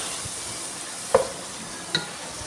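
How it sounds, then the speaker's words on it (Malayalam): Tomatoes being stirred into a masala in a hot pan, with a steady sizzle and two distinct spoon scrapes against the pan. "തക്കാളി എല്ലാം കൂടെ ഒന്ന് നല്ലപോലെ ഒന്ന് മിക്സ് ചെയ്ത് ഈ മസാലയിലെല്ലാം ഒന്ന് യോജിപ്പിച്ച് കൊടുക്കാം"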